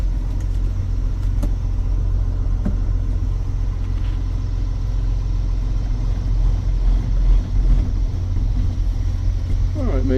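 A John Deere 6810 tractor with an intermittent starter fault rumbles at a steady, low engine drone as it shifts backwards and forwards outdoors, with voices talking faintly over it.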